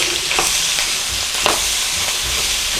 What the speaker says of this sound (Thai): ผัดผัดกับหมูให้มันหอม